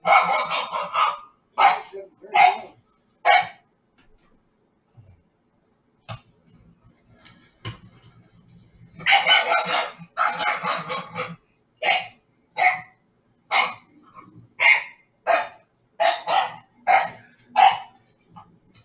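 A dog barks repeatedly in short bursts, loud and close, with clusters of rapid barks separated by brief pauses and a few faint knocks in between.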